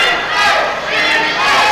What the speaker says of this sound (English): As the fans cheer